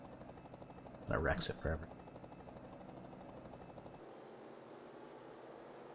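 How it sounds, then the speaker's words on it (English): A helicopter sound effect in a truck racing video game at the Daytona Road Course makes a steady whirring drone under a commentator's voice and cuts out about two-thirds of the way through. "I wish they didn't have that helicopter sound effect."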